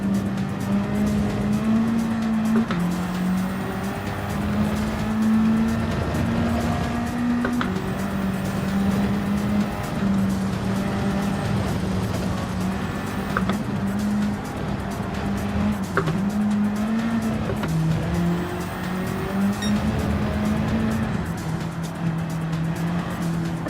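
A front-wheel-drive race car in a racing video game screams along with a steady high engine drone, shifting pitch and squealing tires as the wheels spin, continuous and loud throughout.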